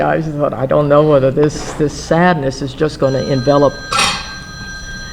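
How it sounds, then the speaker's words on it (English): A mobile phone starts ringing with thin, steady electronic tones during a film festival talk, entering faintly under a person speaking and continuing as the talk trails off. "that's my phone"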